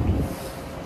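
Strong, cold early-morning wind blowing across an apartment balcony in Tagaytay. It roars straight into the microphone as a low, heavy rumble, gusting hardest at first and then easing to a steady buffeting, with no one speaking.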